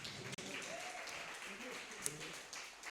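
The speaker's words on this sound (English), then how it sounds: "Give that a round of applause" Audience applause at a creative technology café event, a soft steady wash of clapping hands lasting a few seconds, faint and distant, with murmuring voices mixed underneath.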